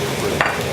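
Blanched broccoli and mushrooms stir-frying in a hot pan for a Sichuan lamb rump dish, a steady loud sizzle with a brief scrape of stirring partway through.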